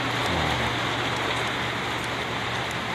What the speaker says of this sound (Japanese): 雨がきつくなってきてうるさいと思うけどね